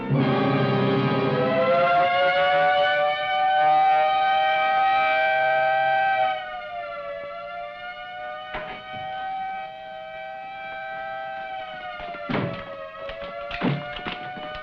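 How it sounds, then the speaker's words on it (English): A prison general alarm siren wails, holding a steady rising tone for several seconds, with occasional thuds and clanks near the end. "Sound the general alarm."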